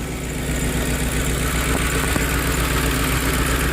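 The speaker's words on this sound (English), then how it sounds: "So there's a listen to the engine." A 2010 Ford F150 XLT pickup idling, its engine a steady, loud, even rumble with a constant droning hum and no change in pace throughout.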